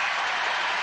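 Allen Fieldhouse basketball crowd applauding and roaring after a shot clock violation, a dense, loud, steady wash of clapping and noise filling the arena with no break.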